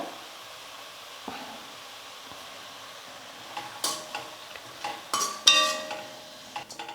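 Manathakkali keerai (black nightshade greens) with turmeric and salt sautéing for a poriyal, stirred in a pan: a quiet sizzle with scattered utensil scrapes and clinks that grow busier toward the end, no talking.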